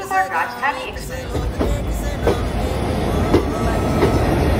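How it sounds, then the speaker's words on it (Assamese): The New Delhi–Dibrugarh Rajdhani Express pulls out of Jorhat station with a steady rolling rumble and rhythmic clacks of the wheels over the rails, heard close from on board, with a voice briefly at the start. "ট্ৰেইনখন যোৰহাট এৰিবলৈ লৈছে"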